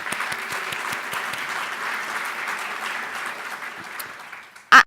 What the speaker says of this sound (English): A big round of applause for them all.